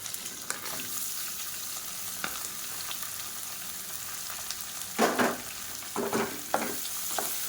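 Steady sizzling of sliced onions frying in hot oil, with a few louder stirring scrapes toward the end.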